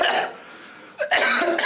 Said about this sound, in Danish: Det er mærkeligt, at man kommer til at hoste det.